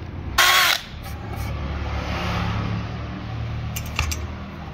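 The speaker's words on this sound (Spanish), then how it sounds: "Aquí es donde vamos a colocar un tornillo de 2 pulgadas." Power drill driving a 2-inch screw into a wooden tortilla press, a short loud whine burst near the start, then a lower steady hum and a brief second rattle near the end.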